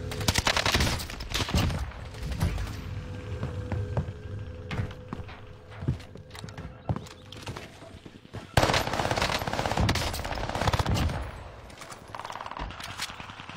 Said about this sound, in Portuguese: Gordão verde me acertou um tiro, Tiamat.